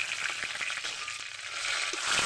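A steady, hissing sizzle of cumin seeds and bay leaves frying in hot oil with faint stirring clicks, continuous and close, with nobody talking.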